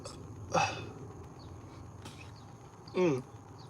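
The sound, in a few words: burp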